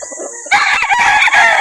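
A one-year-old rooster crows loudly and close up at a chicken market, a single strained call following a brief quiet lead-in.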